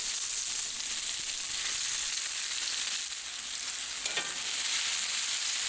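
Boiled potato pieces fry in a Finex cast iron skillet with a steady, dense sizzle and crackle that stays close and loud for the whole stretch, with no voices over it.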